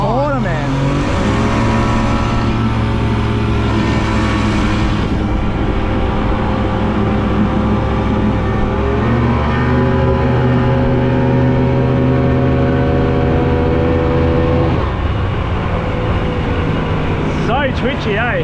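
A fast rubber boat's outboard engine throttles through a corner, its loud whine dropping and rising in pitch as the throttle changes, close and constant for the whole stretch.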